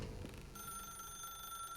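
A telephone rings in the video game The Stanley Parable, a steady electronic trill starting abruptly after a brief murmur and holding at moderate volume.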